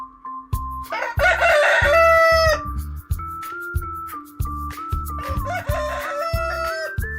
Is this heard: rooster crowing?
yes